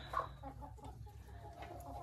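Laying hens cluck softly and faintly in a coop, a few low calls over a steady low hum.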